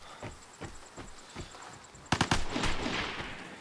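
Gunfire in the survival shooter Vigor: spaced single shots at first, then a quick loud cluster of rounds followed by a rumbling echo, with no one talking.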